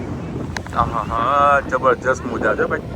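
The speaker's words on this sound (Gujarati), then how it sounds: "મસ્ત ઠંડો પવન આવે છે" Cool sea wind gusts across a microphone at a beach, a steady low rushing rumble running beneath a man's close, cheerful talk for the whole stretch.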